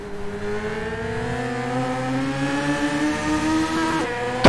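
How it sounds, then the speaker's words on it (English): Historic F3 race car engine in a Zandvoort sim racing game, a steady high-pitched onboard drone rising gently in pitch as it accelerates, with a brief sharp change near the end. "just listening to the engine note of that car"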